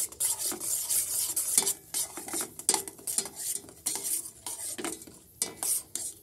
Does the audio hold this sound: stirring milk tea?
yes